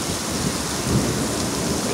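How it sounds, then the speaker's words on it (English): A massive thunderstorm roars with heavy, big-drop rain pouring down and a low rumble of thunder, a dense, steady wash of sound with no voices. "this massive thunderstorm. Big fat rain too."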